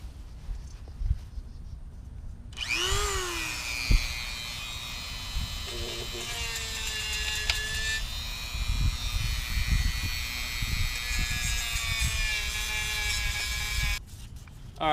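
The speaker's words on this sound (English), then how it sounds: "you kind of want to Dremel out the crack just a little bit" A Dremel rotary tool grinds out a crack on a Cub LTX 1040, kicking in abruptly with a sustained high-pitched whine whose pitch wavers as it cuts for about eleven seconds before stopping.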